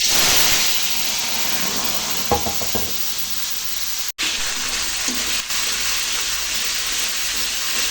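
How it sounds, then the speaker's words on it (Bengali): Spice paste mixed in water hits hot oil in a pan while making a rohu fish curry with papaya and potato. A loud, steady sizzle and hiss carries on throughout, with brief stirring clatter and a short break. "এখন দিয়ে দিচ্ছি গুলে রাখা মশলার পেস্টটা"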